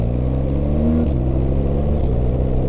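A BMW R 12 G/S motorcycle engine pulls steadily under acceleration while riding, a loud close boxer-twin drone rising in pitch with a quick gear change midway.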